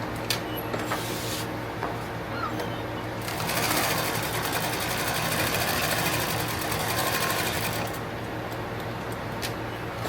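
Sewing machine stitching a seam on a handmade tactical plate carrier, a continuous fast mechanical whir that grows louder in the middle, with a steady hum underneath.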